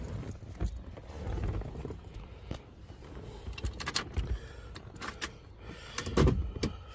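Keys jangle inside a Ford F250 pickup cab, a soft, intermittent metallic rattling in short bursts, close and fairly quiet, with faint clunks and rustles between them.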